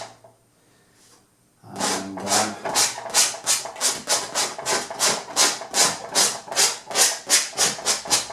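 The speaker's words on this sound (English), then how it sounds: "What I do now is that I scrape, as you see now, I scrape away glaze." A palette knife or scraper dragged repeatedly across an oil painting to lift off a layer of glaze, making a steady run of loud, close, rhythmic rasping strokes after a short quiet start.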